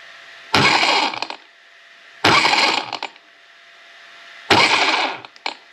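An MCD XR5 Max Pro RC car after a stage 3 performance upgrade lurches off three times, each start a sudden loud burst of motor whine with a jolt that quickly cuts out, with quiet gaps between.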